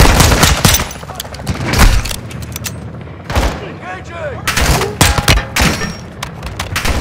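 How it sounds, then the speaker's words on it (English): Video game Modern Warfare 2 combat: bursts of rapid gunfire mixed with heavy grenade explosions and thuds, loud and close, coming in clusters with short gaps, with voices shouting in between. "These fucking grenades"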